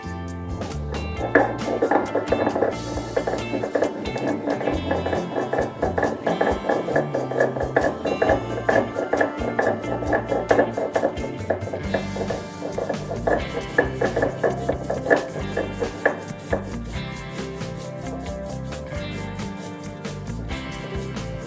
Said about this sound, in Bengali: এবার পোস্তর সাথে একসাথেই শিলে আমি এটাকে বেটে নেব।